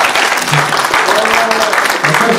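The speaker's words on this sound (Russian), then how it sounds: "Давайте Ваня похлопаем." An audience at a business forum breaks into applause, a dense close burst of clapping that fills the short moment, with a voice talking over it.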